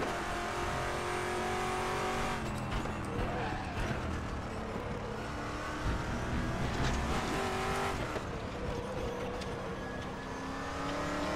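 Race car engine in RaceRoom Racing Experience, a Ford GT GT1 droning steadily at high revs with shifting pitch, tire noise and brief scrubs over curbs throughout, loud and close.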